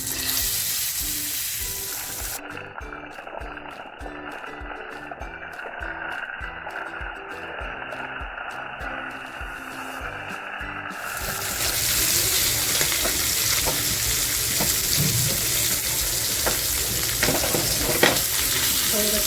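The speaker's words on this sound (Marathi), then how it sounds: "आता जे मॅरिनेट केलेले पॉपलेट आहेत ना ते अगोदर फ्राय करून घेते" Marinated pomfret fish fry in hot oil with a continuous close sizzle that swells louder and fuller partway through, with scattered pops and crackles over the steady hiss; no voices.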